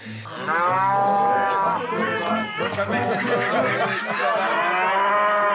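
Cows on a farm moo loudly and repeatedly close by, their long drawn-out calls overlapping, while people chatter underneath.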